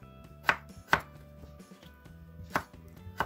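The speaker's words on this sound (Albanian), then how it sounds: "I presim patatet në këtë mënyrë." A knife slices potatoes on a board in four distinct close chops, two quick ones and then two more after a pause, with quiet clinking between and no talking.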